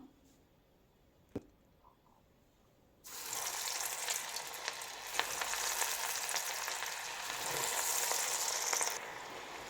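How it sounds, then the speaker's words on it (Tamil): Breaded cauliflower pakoda pieces drop into hot oil and set off a loud, steady sizzle that fills the rest of the scene, with a faint tap and a quiet gap just before the frying starts. "இப்போ ரெடி பண்ணி வச்சுருக்க இந்த காலிஃப்ளவரை இதில் போட்டுடலாம்"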